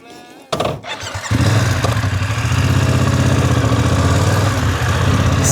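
A BMW F900GS motorcycle engine cranks and catches, then settles into a loud, close, steady idle with a low throbbing rumble.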